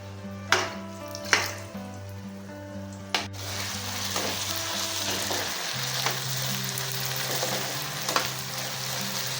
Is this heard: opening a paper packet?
no